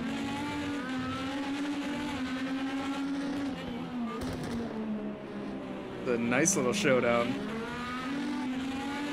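Indy race cars racing at Imola in Project Cars 2, a steady engine drone rising and falling through gears, with a brief squeal and louder pass near the end, under commentary.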